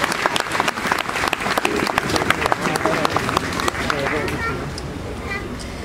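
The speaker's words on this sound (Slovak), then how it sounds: "Poprosím, privítajte veľkým potleskom Luciu Nicholsonovú a Miriam Lexmanovú." A large crowd at an outdoor protest rally for peace and aid to Ukraine applauds welcomed speakers, dense loud clapping that holds steady and then slowly thins out.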